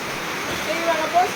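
Heavy rain on a rural farm, a loud, dense, steady hiss of downpour with a voice faintly under it.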